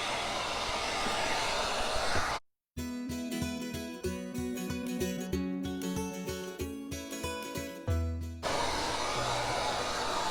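A heat gun blasting at full power over a concrete countertop mix, a loud steady whining roar after a brief silent cut, with faint rhythmic clatter and no speech.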